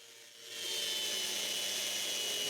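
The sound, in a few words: sanding two big glued-up wood panels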